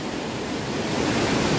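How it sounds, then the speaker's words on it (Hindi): The swollen Beas river in flood after a cloudburst in Kullu–Mandi: a dense, continuous rushing roar of fast water, loud and steady throughout with no break. "ये ब्यास नदी का बहाव, ब्यास नदी लगभग शांत है, लेकिन उतनी भी शांत नहीं कह सकते हैं, खतरनाक चल रही है"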